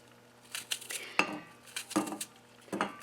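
Knife cutting through oatmeal pancakes on a plate, giving a few distinct clinks and scrapes of metal on the plate in an irregular rhythm, close and moderately loud.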